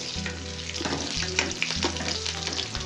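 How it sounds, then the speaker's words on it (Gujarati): Chopped onion fries in a pan for a restaurant-style cashew paneer curry, a dense, close sizzle with light stirring scrapes over a low steady hum that cuts out briefly twice. "આ ડુંગળી છે એને ફ્રાય કરી લઈએ"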